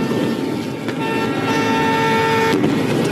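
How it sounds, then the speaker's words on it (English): Car horns honk on a gridlocked city street at night during a trucker protest in Ottawa, several overlapping sustained blasts of differing pitch blaring steadily over a dense traffic rumble, loud and close. "these arseholes just keep honking"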